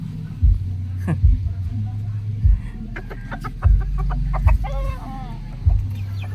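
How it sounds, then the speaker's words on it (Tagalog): A red junglefowl rooster in a backyard clucks and grunts in low bursts several times, close by, with some higher chirping birds in the background. "Ito yung tandang natin."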